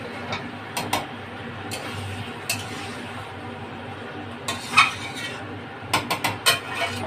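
Metal utensil scraping and clinking in a pan while chicken and jackfruit curry with fried potatoes is stirred, a few sharp scrapes scattered over steady low kitchen noise, with clusters of quick clinks near the end.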